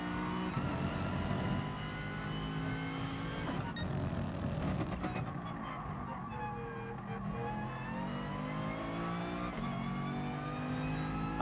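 A Porsche race car engine in GT Sport drones steadily through the whole stretch, its pitch shifting as it revs up and down through gear changes, loud and continuous with no talk over it.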